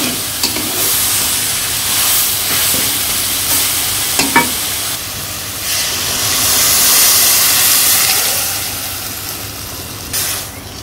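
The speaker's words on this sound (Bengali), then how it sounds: "তো এখন আমি ঝোলটা দিয়ে দিব।" Broth is poured into jute leaves frying in a pan, setting off a loud steam hiss and sizzle that swells and fades, with spoon knocks and stirring scrapes throughout and no speech.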